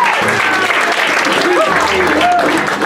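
An audience at a down-home music show applauds a bandleader on stage, close and loud, with voices talking over the clapping.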